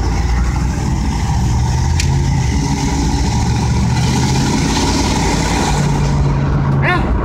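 A 1987 Chevrolet Corvette C4 drives along the road with its engine humming steadily and fairly loud throughout, joined by road rumble and a few brief higher squeaks near the end.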